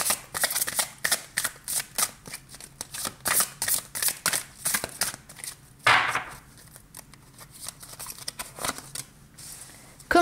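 Tarot cards being shuffled by hand, a run of quick crisp riffling flicks and soft slaps in an uneven rhythm, close and fairly loud, with no talking.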